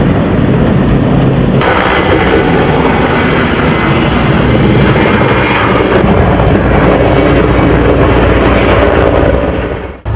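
Canadair water-bombing aircraft fly over a wildfire near Patras. The engine roar is loud and steady throughout, with a broadband rush that swells slightly and cuts off at the very end.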